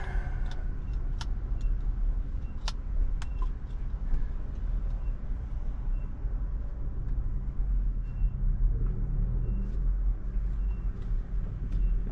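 A new car on the move gives a continuous low engine and road rumble, steady and close, with a few faint clicks scattered through it.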